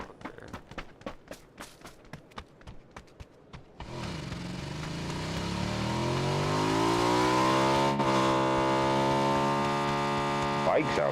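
After a few seconds of thumping footsteps, a car approaches and passes on the road, a rising engine hum with a swelling, then shifting droning tone that stays fairly loud to the end.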